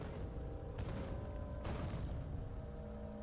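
In the video game Factorio, explosive tank cannon shells strike in two sharp, booming blasts about a second apart, layered over a continuous low rumbling hum of in-game machinery.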